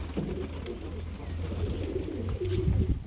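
Soft homing pigeon coos repeat low and close over steady outdoor background noise on a rooftop terrace, with faint voices murmuring now and then.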